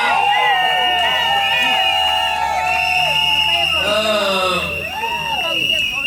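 Guests at a civil wedding ceremony cheer loudly and continuously, with high whoops and shouting voices rising and falling in a dense crowd roar.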